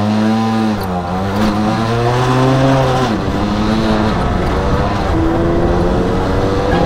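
A motorcycle engine revs up and drops repeatedly as it shifts through its gears, a loud, close, continuous whine whose pitch climbs and falls in successive sweeps, with no voices over it.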